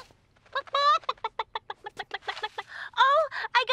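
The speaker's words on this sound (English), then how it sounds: "I'm looking after Moo's chickens." Cartoon chickens clucking in a quick series of short, bright calls, close and fairly loud, with a couple of longer squawks near the end and no talk over them.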